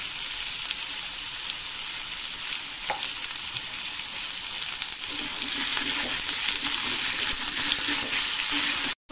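Cut potatoes fry in hot oil in a pan, a loud, dense, continuous sizzle that swells slightly in the second half before cutting off abruptly.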